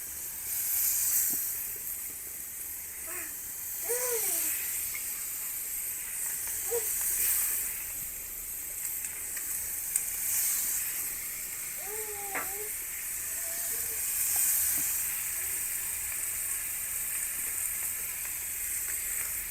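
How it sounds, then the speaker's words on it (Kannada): Kingfish (anjal) pieces sizzle on a hot tawa with a constant hissing fry, joined by occasional soft clinks and brief scraping touches, and a voice speaks in short bursts over the cooking. "ಈಗ ಕಾಯ್ದಿದೆ ತವ, ಹಾಕುವ ಮೀನು."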